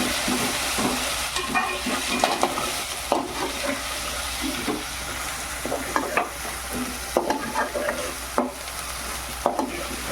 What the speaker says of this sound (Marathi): आता आपल्याला मस्तपैकी शिजून घ्यायचं आहे आले लसणाची पेस्ट